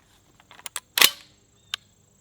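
A Panzer BP-12 G2 semi-auto bullpup 12 gauge shotgun fired outdoors, one loud sharp blast preceded by small mechanical clicks, then a lone crisp click a moment later.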